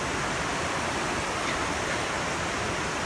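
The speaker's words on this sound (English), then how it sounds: "I got a noise from the waterfall" A waterfall on a wet, rocky hiking trail roars with a dense, steady rush of water that sounds close and loud, unbroken and with no voices.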